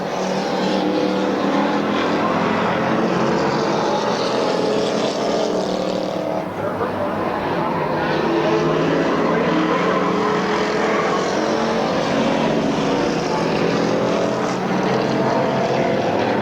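Race cars at Midvale Speedway roar continuously and loudly for the whole stretch, a dense steady wall of engine noise with no breaks.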